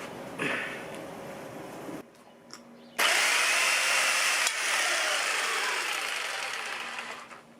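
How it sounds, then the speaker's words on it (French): A power tool cuts a wooden batten in a loud, steady whine, with a short burst, a pause of softer noise, then a longer sustained cut that slowly fades, close by outdoors. "je vais couper tout de suite le tasseau"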